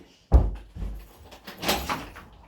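A front door is opened for a visitor at New Year, starting with a sharp handle clack and thud, then softer knocks and rustling movement close by.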